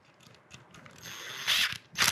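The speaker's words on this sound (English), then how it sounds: "run these screws in real fast" A power driver runs Phillips head screws into a lock housing, giving short whirring, ratcheting bursts close by that grow louder toward the end, with gaps between them.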